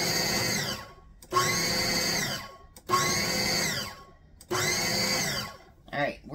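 A food processor pulses pie dough for a cherry pie in four whirring bursts of about a second each, with the motor spinning up and winding down between pulses, loud and close.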